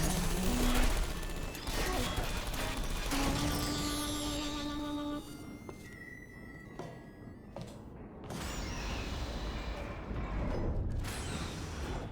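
Portal 2 turrets spraying bullets in rapid bursts, loud, dense gunfire with mechanical clatter and crashes over roughly twelve seconds, easing briefly before another loud burst near the end.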